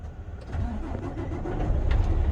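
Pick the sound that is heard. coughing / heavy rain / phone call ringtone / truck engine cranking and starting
truck engine cranking and starting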